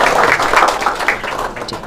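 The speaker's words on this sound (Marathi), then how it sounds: "दादांसाठी जोरदार टाळ्या" A studio audience applauds a quiz contestant's correct answer in a short burst of close, even clapping.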